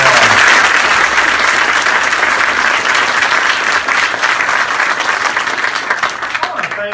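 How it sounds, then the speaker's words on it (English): A large audience applauds military veterans at a memorial event, a loud sustained wash of clapping that slowly tapers off toward the end. "Let's give these men and women a great round of applause."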